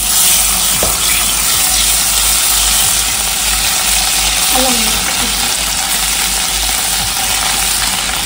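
Onion paste fries in a pan for a village-style fish curry, giving a loud, dense, unbroken sizzle up close, with a faint brief scrape partway through.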